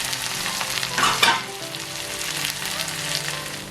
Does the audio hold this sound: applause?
no